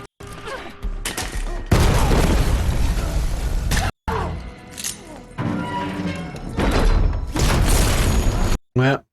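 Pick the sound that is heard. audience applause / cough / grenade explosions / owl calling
grenade explosions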